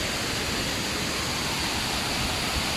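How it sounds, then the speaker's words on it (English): A water fountain splashes in a shaded courtyard at night, a dense continuous hiss of falling water, close and steady throughout with no talk. "Water fountain."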